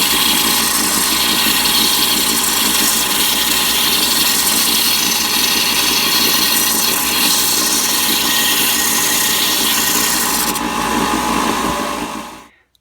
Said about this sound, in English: Less than 2 minutes on the belt sander